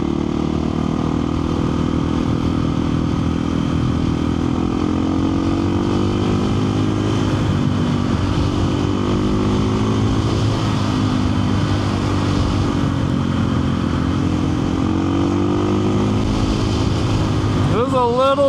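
A KTM 500 EXC-F single-cylinder dirt bike cruises along country roads, its engine droning loud and steady from the rider's position, with wind rush throughout and no talk.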